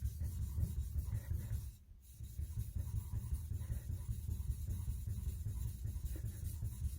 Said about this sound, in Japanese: 左手の奥位置と押さえる力加減でちょっと研ぐところを調整しているという感じになります